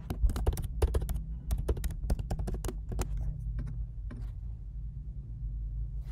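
A password being typed on a computer keyboard: a quick burst of close, crisp key clicks, then a few scattered taps over quiet room hum.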